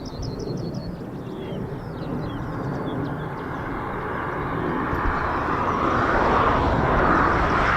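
An F-35B stealth fighter jet passes overhead near Lakenheath in Norfolk as a deep, broad engine roar that builds steadily louder, with faint birdsong early on.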